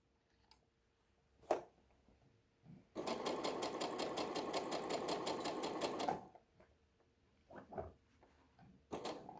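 Sewing machine stitching fabric for a little dress: a fast, even burst of needle clatter lasting about three seconds, framed by quieter handling knocks and fabric rustles before and after.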